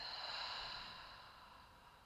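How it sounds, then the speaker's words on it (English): A slow exhale through the mouth during a yoga session, heard as a soft, breathy hiss that gradually fades over about two seconds, quiet and alone with no talk. "Exhale through the mouth."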